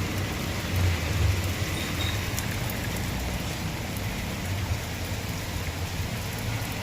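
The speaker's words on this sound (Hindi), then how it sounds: "बाहर बहुत तेज़ बारिश शुरू हो गई है।" Heavy rain pouring down outdoors, a steady dense patter on surfaces with a low rumble underneath, continuous and fairly close.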